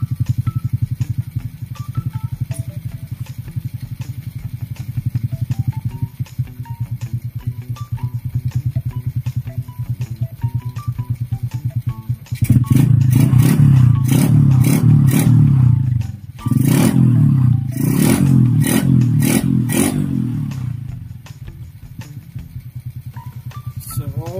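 A Honda Wave motorcycle engine idles steadily after being repaired from a neglected, misfiring, oil-leaking state, then breaks into loud, sharp revving bursts with clattering, close up and alone.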